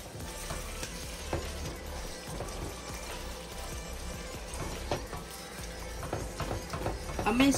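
Chicken frying with spices in a pan for a smoky yogurt chicken dish, a steady close sizzle with scattered stirring clatters and scrapes throughout, growing slightly louder near the end.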